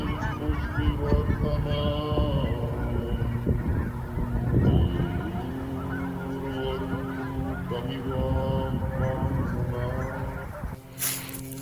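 A flock of geese honks continuously, many overlapping calls at moderate distance forming a dense, steady chorus with a brief loud bump near the end.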